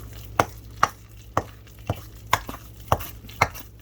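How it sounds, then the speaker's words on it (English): Whole wheat biscuit dough is mixed by hand in a bowl, giving sharp, evenly spaced knocks and scrapes of a utensil against the bowl, about eight strokes, close and clear with no talking. "And so now you just mix it."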